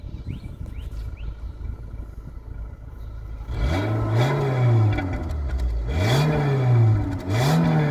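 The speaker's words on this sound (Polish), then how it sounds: "No i tak napracuje silniczek." A Renault Megane 1.6 16v engine idling quietly, then revved three times in sharp rising-and-falling bursts that grow loud and close, parked on sand outdoors.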